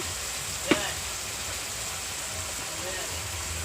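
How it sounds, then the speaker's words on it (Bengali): Spice paste of ground cumin, ginger, chili and coriander frying in a pan for a rohu fish curry with potato and greens, giving a steady soft sizzle with one brief clink near the start. "মশলাটা সুন্দর করে কষে নিচ্ছে"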